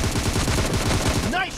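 A rapid burst of automatic gunfire in the mobile game PUBG Mobile, loud and close, with a quick rattle of shots followed by a short rising electronic tone at the end.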